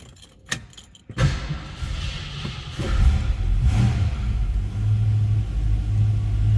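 A 1968 Ford Mustang Fastback 2+2 with a 289 V8 starts up after a brief key jingle, cranks and catches, then settles into a loud, steady, rumbling idle close by.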